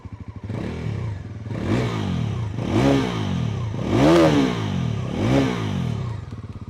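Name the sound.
Bajaj Pulsar NS400z underbelly exhaust revving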